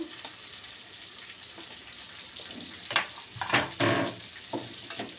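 Meat frying in a pan with potatoes and onions just added gives a low, steady sizzle with scattered pops and crackles, and a few louder bursts of hiss and clatter near the end.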